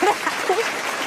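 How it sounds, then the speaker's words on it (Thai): Applause sound effect dropped into a live Thai stock-trading broadcast: a short burst of dense clapping with a voice briefly audible over it. "นี่คือเสียงปรบมือแล้วนะคะ"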